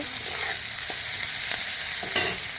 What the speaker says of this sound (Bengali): এখানে দেখো আমি পেঁয়াজটা ভালো করে ভেজে দিচ্ছি